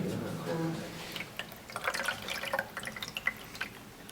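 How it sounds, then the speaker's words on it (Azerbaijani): Water is poured into a hydraulics lab container, starting as a brief running pour and then breaking into scattered drips and small splashes, close and moderately quiet. "Biraz suyu əlavə edək."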